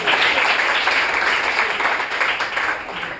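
A crowd claps loudly and continuously throughout, a steady wash of many hands with a faint voice underneath.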